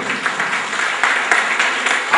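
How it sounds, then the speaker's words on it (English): Audience at a formal event applauding, a close, loud burst of many hands clapping that continues for about two seconds. "Ladies and gentlemen, please give a round of applause."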